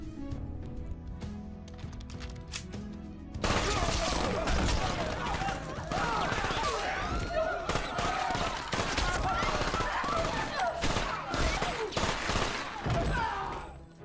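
Sustained bursts of assault rifle fire in a dramatic scene from The 100 open after a quieter music-backed stretch, then roll on as dense overlapping shots with loud rattling bursts to the end.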